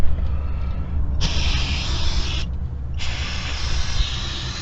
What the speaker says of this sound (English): So let's grab our brake cleaner.